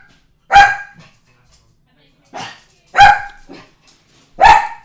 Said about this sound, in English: Lena, stop barking.